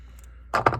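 Wire cutters snip and twist wire while an articulated foot is assembled, heard as a couple of quick, close, crisp clicks after a near-silent pause.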